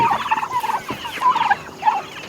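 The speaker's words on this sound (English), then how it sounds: "Some of these meat birds are huge and some of them are still on the smaller side." Meat chickens of mixed sizes, males and females, cluck and chatter inside a coop, a steady overlapping flock murmur with repeated short calls, fairly close and moderately loud, with no talking.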